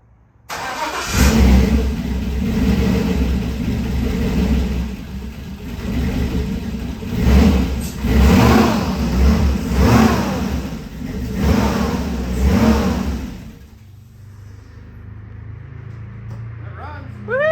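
LS-swapped 1972 Chevy C-10 pickup engine starting on its first start-up, then running and revving in repeated rising bursts before settling to a quieter idle, loud and close with brief talk nearby.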